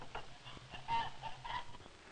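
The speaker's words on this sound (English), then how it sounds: "His chickens are Rhode Island Reds." Rhode Island Red chickens on a poultry farm give soft, scattered clucks and short calls at a moderate distance over a quiet background.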